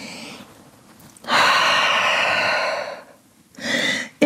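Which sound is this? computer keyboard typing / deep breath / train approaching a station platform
deep breath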